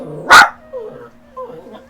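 A dog gives one loud, sharp bark, followed by a few softer whining yips and whimpers.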